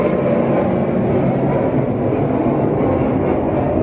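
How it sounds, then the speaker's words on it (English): Military jets flying overhead from a nearby naval base make a loud, steady, low rumbling roar that fills the whole stretch without a break, with no talking. "Sorry, you can hear the jets there probably."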